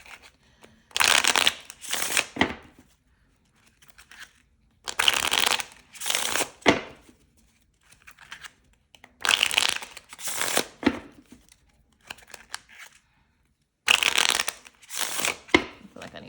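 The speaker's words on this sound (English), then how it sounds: "I need to shuffle one more time." A deck of playing cards is shuffled close up in several quick riffling bursts, each a second or two long, separated by quiet pauses and occasional faint talk.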